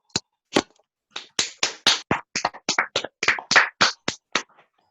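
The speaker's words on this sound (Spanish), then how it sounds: "Vamos a dar un fuerte aplauso a Jesús por la reflexión durante la vida en Uruguay" Sparse, close hand claps from a small audience applauding a speaker after a reflection on life in Uruguay, about fifteen separate claps in an uneven rhythm, then silence.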